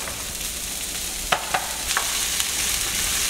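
Cauliflower rice fries in extra virgin olive oil in a very hot pan, giving a steady sizzle with a few short scrapes of stirring partway through.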